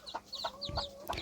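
Hens clucking in a few short, close bursts, with a thin high peep between calls, likely from growing chicks; quiet and with no talk over them.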